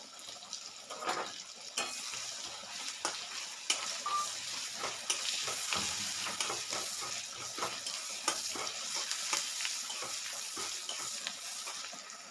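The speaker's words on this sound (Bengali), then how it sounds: "আর পেঁয়াজগুলোকে একটু হালকা ব্রাউন করে ভেজে নিতে হবে" Chopped onions fry in a pan, a steady close sizzle broken by frequent scraping clicks of a spoon stirring, with no talk.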